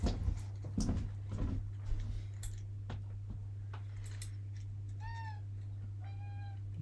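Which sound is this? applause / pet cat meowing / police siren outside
pet cat meowing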